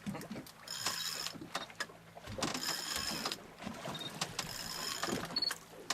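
Spinning fishing reel cranked in on a boat during a red snapper outing, an irregular mechanical whirring and clicking in quick bursts, fairly faint against background wind and motion.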